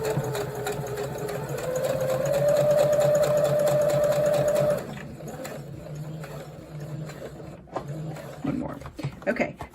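A sewing machine stitches cushion fabric in a fast, steady whirring run for nearly five seconds, then stops abruptly, leaving quieter handling noises and a person talking.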